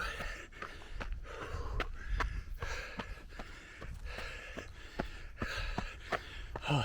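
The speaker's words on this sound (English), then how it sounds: "Apologies for the heavy breathing." Heavy, rapid breathing of a runner on a mountain trail, rhythmic gasping exhales close to the microphone with faint footfalls and gear noise underneath.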